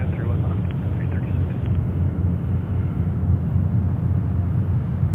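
A heavy jet airliner starting its takeoff roll at JFK airport gives off a loud, steady low roar and rumble that fills the whole stretch without a break.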